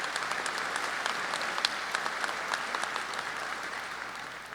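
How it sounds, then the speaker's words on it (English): A crowd at a high school graduation ceremony claps steadily in a sustained round of applause, fairly close, with no voices over it. "start the applause for me"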